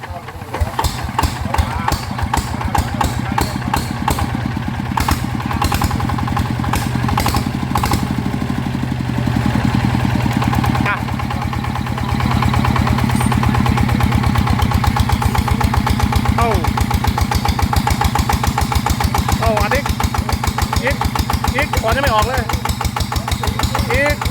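A TF 120 engine upgraded to 150, left idling with no throttle, chugs steadily and loudly close by for the whole stretch, with voices talking over it.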